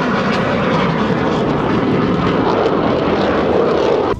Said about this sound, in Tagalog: So yung mga jet fighter na yun ang lumilipad,